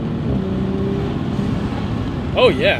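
An Audi S4 B9 engine fitted with a Unitronic closed intake revs, a steady loud rumble under a brief exclamation, then a short voice at the end.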